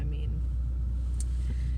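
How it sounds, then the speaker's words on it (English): A parked car's engine idles inside a garage, a steady low rumble that holds level throughout, with faint background speech-like noise over it. "you may notice that I'm in a car and that the car is running"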